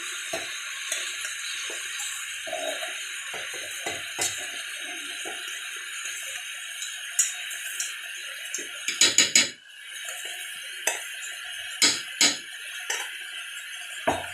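Curd is spooned into a cup for sweet lassi in a home kitchen, giving scattered soft clinks and taps of utensil on cup, with a brief rattling cluster midway, all fairly quiet.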